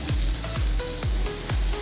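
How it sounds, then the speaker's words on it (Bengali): Coconut frying in a pan with tempering spices and onions, a steady close sizzle with a regular clink of a utensil against the pan about every half second, no talking. "নারকেলটা আগে দিয়ে দিয়েছি, কারণ নারকেলটা একটু ভাজা ভাজা হবে"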